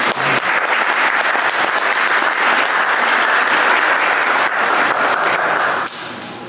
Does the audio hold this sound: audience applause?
yes